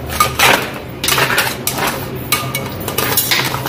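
Crab pieces being tossed and mixed with a marinade of turmeric, garam masala, onion paste and tomato purée in a bowl, with steady clinking and scraping against the dish and a few louder knocks close up.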